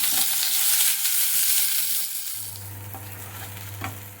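Onions fry over a medium flame with garlic and ginger in oil, giving a continuous close sizzle that softens partway through, with occasional light stirring scrapes and a low steady hum below.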